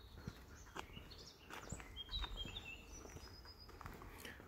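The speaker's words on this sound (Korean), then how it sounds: "종류도 많은가 봐 새소리들이 다 제각각이야" Assorted birds chirp and tweet in short scattered calls along a hiking trail in Germany, faint and somewhat distant over a soft outdoor background.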